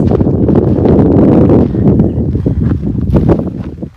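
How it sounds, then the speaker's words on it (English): Loud wind gusts buffeting the microphone outdoors at Fort Davis, Texas, a strong rumbling rush that eases after a moment into choppier, fluttering bursts. "A little windy out."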